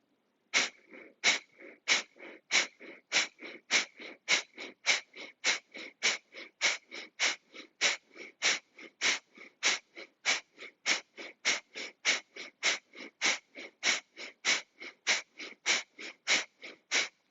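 Around thirty quick, forceful exhales through the nose in a steady, even rhythm during a yoga breathing exercise, each a short sharp puff close to the listener, with no talking in between.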